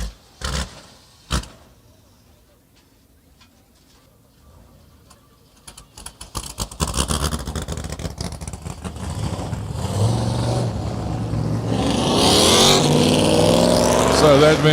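Race cars on an oval track rise from near quiet into a loud, dense engine roar, with a few sharp knocks at the start and engines building as the cars pass close by.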